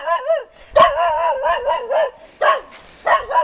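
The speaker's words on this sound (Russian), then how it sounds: "Собачка." A dog barks and howls in repeated yelping bursts near a family house, loud and close, with short gaps between calls and no talk over it.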